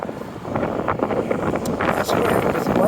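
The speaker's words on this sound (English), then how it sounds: "The wind was really bad right here." Strong outdoor wind buffets the microphone on a walk around Halifax's North End near Scotia Square, a loud continuous rumbling roar throughout.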